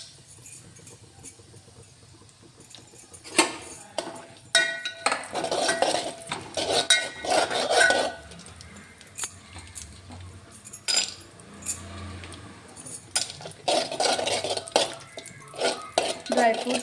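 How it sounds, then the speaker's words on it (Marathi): Dry fruits (raisins, cashews, almonds, chopped coconut) being stirred as they roast in ghee in a pan for semolina kheer, with repeated metallic clinks and scrapes of a spoon against the pan, loud and close, and a soft frying hiss underneath. "पहिल्यांदा आपण ड्रायफ्रूट्स तुपामध्ये परतून घेऊ."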